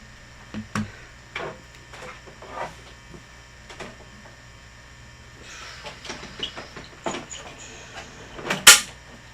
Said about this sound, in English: Hang on, I'm just trimming that.